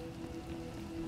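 Rain falling during a storm in the game Star Wars: The Old Republic, a faint, steady patter with a low hum beneath it, heard alone for a brief moment.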